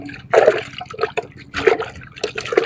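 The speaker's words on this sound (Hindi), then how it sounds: "थोड़ा और पानी मार देते हैं इसको।" Water splashes and sloshes over new potatoes being washed by hand, irregular close bursts of wet splashing and dribbling with brief pauses between.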